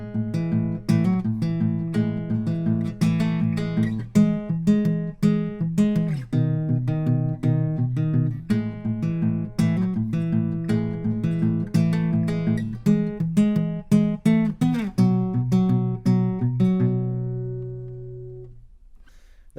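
Finger-picked guitar intro pattern from a song, a steady stream of plucked single notes and ringing chords repeating for about seventeen seconds, played close and clear with no voice, then ending on a fading final chord.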